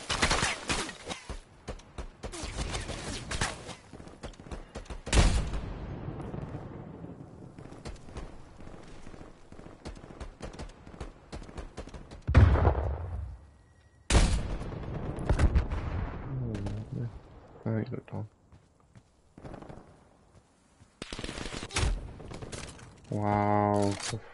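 Machine gun fire in a video game, loud dense bursts of rapid shots in repeated volleys with brief gaps, mixed with other game effects.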